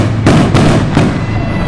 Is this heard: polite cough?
no